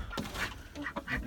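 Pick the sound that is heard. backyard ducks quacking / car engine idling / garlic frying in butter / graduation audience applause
backyard ducks quacking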